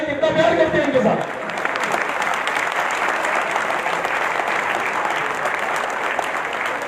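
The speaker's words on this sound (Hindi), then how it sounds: "जरा खड़े होकर तालियां बजा के बताएं कितना प्यार करते हैं इनके साथ।" A standing crowd at a wrestling tournament prize ceremony in Lahore breaks into loud, sustained applause right after a brief stretch of someone speaking, then keeps clapping evenly without letup.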